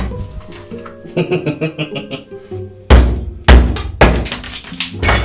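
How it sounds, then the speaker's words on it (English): A hard-shelled macadamia nut is struck repeatedly, giving several loud, close thunks and knocks, with softer rhythmic tapping before the heavier blows. "Ta-da! One cracked nut."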